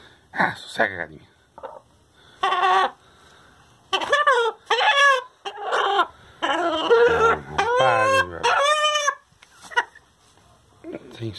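A broody hen sitting on eggs clucks and squawks in agitated bursts, near and loud, with a short crowing-like call; the calls come in an irregular run of separate outbursts.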